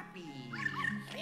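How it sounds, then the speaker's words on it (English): Polterpup, the ghost dog in the video game Luigi's Mansion 3, gives brief faint yips and whimpering cries, heard under a player's voice talking. "Oh, Polterpup."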